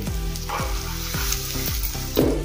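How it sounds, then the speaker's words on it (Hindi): Chili flakes sizzle in hot oil for shallow frying vrat tikki, a steady frying hiss broken by several soft scraping stirs, close and moderately loud with no talking. "तेल अच्छे से गर्म हो गया है। अब इसमें हम चिली फ्लेक्स डालेंगे"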